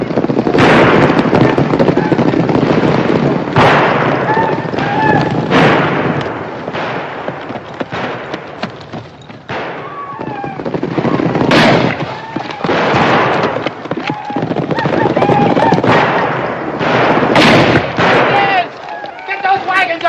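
Rifle gunfire in a 1950 western film crackles in rapid, repeated sharp shots throughout, loud and dense, mixed with shouting voices and battle commotion.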